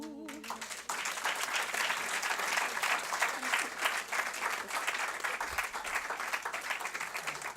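An awards-ceremony audience applauding the Consulate singers, sustained many-handed clapping with some crowd noise, beginning after a brief tonal sound and holding steady at moderate volume.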